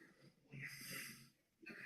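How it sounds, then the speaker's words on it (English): Heavy, raspy breathing like someone on a ventilator, faint and wheezy, two drawn-out breaths separated by a brief pause. "Who's breathing like that? Is somebody on a ventilator?"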